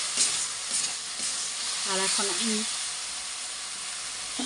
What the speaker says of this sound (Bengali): যতক্ষণ ব্রাউন কালার না হচ্ছে ততক্ষণ আমি পেঁয়াজটা খুব ভালো করে ভেজে নিচ্ছি